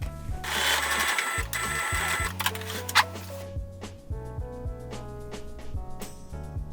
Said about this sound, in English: you just want to sew that down along the edges of the twill tape